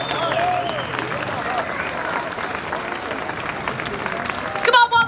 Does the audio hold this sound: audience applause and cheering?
yes